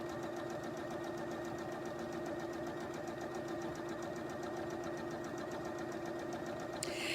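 A home sewing machine runs continuously at a steady pace, stitching and back-tacking the corners of a beginner's pillowcase seam, a mid-loud motor whir with rapid needle ticking and no voices.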